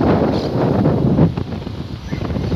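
Gusty wind blows outdoors on a cool, cloudy Sunday in Porto Alegre, a steady broadband rush that buffets the microphone, surging loud through the first half before easing slightly, with no talking.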